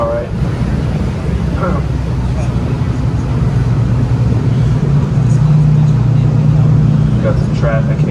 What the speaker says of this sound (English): Got some traffic here.